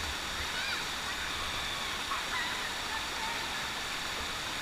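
A steady, broad rush of a waterfall in the Philippines fills the scene continuously, with faint voices barely audible beneath the roar.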